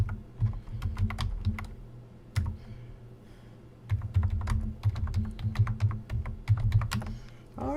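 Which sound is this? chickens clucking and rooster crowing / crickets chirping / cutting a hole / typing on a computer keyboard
typing on a computer keyboard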